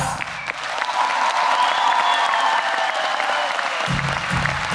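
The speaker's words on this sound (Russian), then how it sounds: "Ваши аплодисменты." An audience applauds steadily throughout, a dense sustained clapping from a crowd with occasional faint cheering, following a folk song performance at a concert hall.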